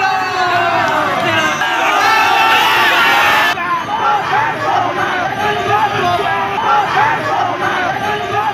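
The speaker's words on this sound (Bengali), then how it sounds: "তৃণমূল বিধায়ক খোকন দাসের বাড়ির কাছে যেতেই দিলীপকে গো ব্যাক স্লোগান দেওয়া হয়।" A crowd shouts 'go back' slogans at BJP candidate Dilip Ghosh during an election campaign near a Trinamool MLA's house, producing loud, continuous massed voices and chanting that swells and persists across the whole stretch.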